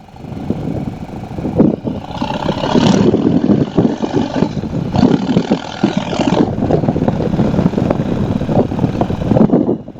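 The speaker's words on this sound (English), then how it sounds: "I hope you can hear the bike." A motorcycle engine drones loudly and steadily while riding on an Easter Monday outing, mixed with a constant rush of wind noise and no voices.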